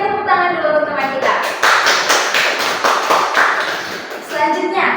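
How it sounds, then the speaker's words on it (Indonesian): Classroom of students applauding a classmate during a chemistry lesson, a quick dense burst of clapping lasting about three seconds between stretches of a teacher's voice. "Berikan tepuk tangan dulu untuk teman kita."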